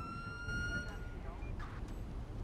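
Police car siren in the GTA NoPixel role-play game, a steady electronic wail fading out partway through, with game background noise beneath.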